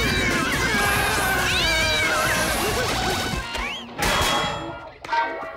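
A cat yowls and meows loudly in rising, wavering cries, with crashing and thumping noises scattered through the struggle.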